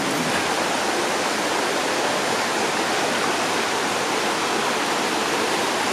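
A creek on private property rushes steadily, a dense unbroken hiss of flowing water that stays loud and even throughout with no voices.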